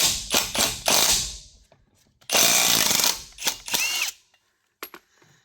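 A JESIMAIK compact cordless impact wrench driving nuts in loud, rapid hammering bursts, two main runs separated by a pause, with brief trigger taps and clicks close by.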